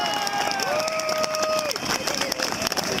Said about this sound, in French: allez, on les applaudit bien fort, s'il vous plaît.